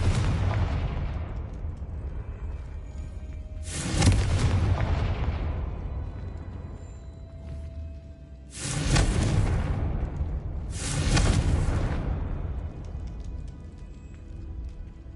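Three separate booming blasts from a Confringo fire spell in a video game, each a loud, sharp burst that rumbles and slowly fades, spaced several seconds apart with quiet between.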